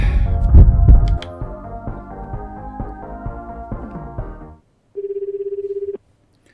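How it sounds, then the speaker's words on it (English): A phone rings in the Chaos;Head Noah video game: a steady electronic ring pulses for about a second after a stretch of droning background music cuts out. "Please pick up. Pick up the phone already."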